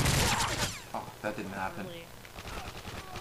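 Gunfire in Modern Warfare 3 on the Village map in hardcore mode, a loud rapid burst of shots at the start that then fades, with someone talking over it.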